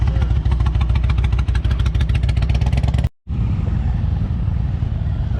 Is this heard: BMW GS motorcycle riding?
yes